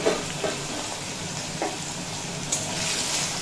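Diced potatoes fry in oil in a pan over a low to medium flame, giving a steady close sizzle and hiss with a few soft stirring knocks and no talk.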